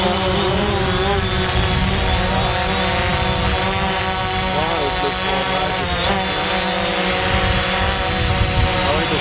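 DJI drone hovering close by before a manual landing, its propellers giving a loud, steady buzzing whine with shifting pitch throughout; someone speaks French over it.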